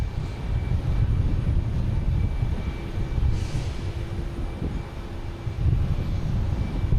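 Jet airliner taking off from a runway at Boston Logan Airport, a loud, sustained engine roar with a deep rumble heard from nearby.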